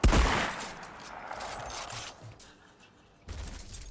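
A low-level shotgun fires in Valheim, with a heavy blast at the start trailing into rumble, then a quieter stretch before another firm burst near the end.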